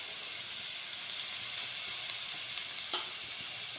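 Grated carrot fries in ghee for carrot halwa, giving a steady, close, continuous sizzle with a faint crackle and one brief clink near the end; no one speaks.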